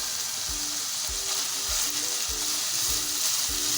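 Chicken Singapore fried rice stir-fried in a pan, a loud, constant hiss of frying with regular thumps of a spatula against the pan about twice per second.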